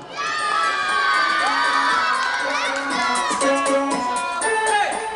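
Primary school children at a hockey event shouting and cheering together, a loud sustained crowd roar of high young voices with rising whoops and shrieks throughout.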